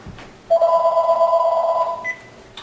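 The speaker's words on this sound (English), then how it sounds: "Hey, that sounds like the phone." A telephone rings indoors with a single sustained electronic ring lasting about a second and a half, fairly loud and clear, with no talking over it.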